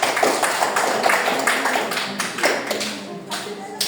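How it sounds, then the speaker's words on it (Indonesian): Classroom applause for a student during a micro-teaching lesson in Indonesia, a steady round of clapping from a room of students lasting several seconds, with a teacher's voice over it. "Oke, tepuk tangan dulu untuk Bella."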